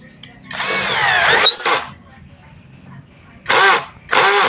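A cheap 16.8 V brushless cordless drill in screw-torque mode 4 drives a screw into hard wood in short whirring bursts that rise in pitch, with a voice speaking at the start.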